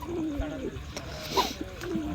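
A young pigeon in a loft gives low cooing calls, with a brief louder coo midway, over steady background hum; soft voices murmur nearby.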